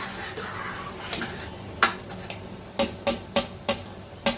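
A spoon stirring a pot of meat stew, several sharp metallic knocks against the pot rim coming in a quick irregular series near the end, close and distinct over a low kitchen background.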